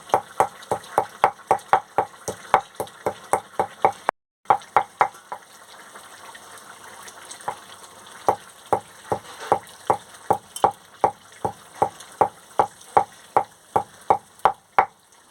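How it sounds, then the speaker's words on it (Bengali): Garam masala spices are crushed for a fish curry with steady rhythmic pounding, a quick series of sharp knocks with one brief pause partway through, then more evenly paced strikes, close and clear. "এবারে আমি গরম মশলাটা থেতো করে নিচ্ছি"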